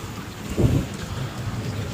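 Rain starts falling again outdoors, a steady broadband hiss with some low wind rumble and a slight swell partway through, without any voices.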